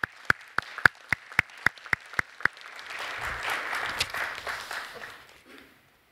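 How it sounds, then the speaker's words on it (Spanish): At an awards ceremony, a single close, sharp clapper sets a steady rhythm of about ten claps. Broader, softer audience applause then swells and fades away. "Un aplauso para ellas, por favor."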